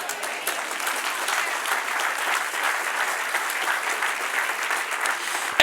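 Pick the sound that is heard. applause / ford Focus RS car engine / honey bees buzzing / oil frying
applause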